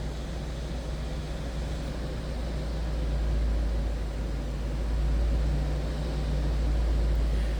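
A 1986 Mercedes-Benz 560SL convertible's exhaust idles with a steady low rumble, swelling slightly now and then, close by and alone.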